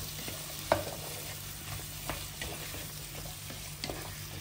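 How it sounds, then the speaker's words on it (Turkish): A utensil scrapes and stirs potatoes with tomato paste in a pan, soft scraping strokes over a faint sizzle, no talking. "Şimdi şöyle patateslerimizi salçamızla güzelce birleştirelim."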